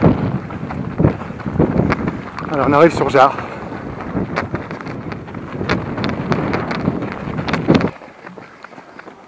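Gusty coastal wind buffets the microphone in a steady low rumble beneath someone speaking during a trail run near beaches at Jard-sur-Mer, then drops away near the end.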